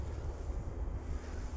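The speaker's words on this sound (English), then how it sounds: "That was a wind gust." Wind gust blowing outdoors across the microphone during a small RC helicopter flight, a brief steady rush of low buffeting noise with no voices.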